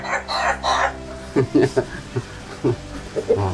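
Ayam ketawa, an Indonesian laughing chicken breed, calls with a close run of short clucking, cackling bursts after an opening stretch of voice-like crowing, with no clear talk.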